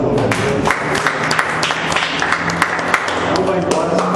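Church congregation clapping together after a closing prayer, a dense, steady wash of many hands filling the room with a few louder individual claps, while a voice speaks over it.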